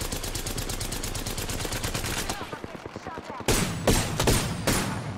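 Rapid automatic gunfire from the video game Apex Legends, bursts of shots crackling densely throughout with a louder flurry of close shots near the end, mixed with game noise.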